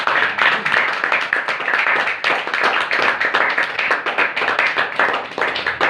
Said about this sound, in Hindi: यीशु मसीह के लिए एक बार जोरदार ताली।